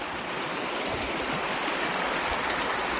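Highland river in Scotland flowing steadily, a continuous broadband rush of water close by, loud and unbroken with no voices.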